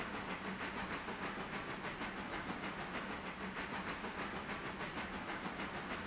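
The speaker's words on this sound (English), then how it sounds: "our train is just like rolling along" A train rolling along steadily in the railroad game Railroader, a continuous even rumble with faint rhythmic clatter and hiss, alone and at a constant level throughout.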